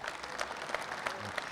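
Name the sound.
audience applause for young hunter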